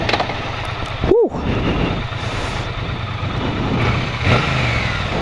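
A 2016 Triumph Bonneville T120 motorcycle engine runs loud and close, revving and rumbling steadily with a brief sharp swell near the start, no speech.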